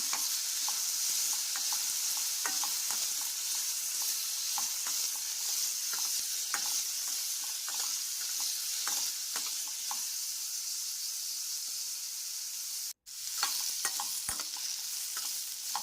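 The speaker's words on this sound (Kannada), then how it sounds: "ಮೂಲಂಗಿ ಹಸಿ ವಾಸನೆ ಹೋಗೋ ತನಕ ಸ್ವಲ್ಪ ಎಣ್ಣೆಯಲ್ಲೇ ಹುರ್ಕೋಬೇಕು ಇದನ್ನು" Radish frying in oil for a radish chutney, a steady close sizzle that runs throughout with frequent scraping stir clicks and a brief dropout near the end.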